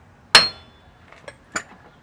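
One sharp metallic hammer strike on a pickle fork rings briefly, followed by two softer taps, while separating an outer tie rod end; close and otherwise quiet.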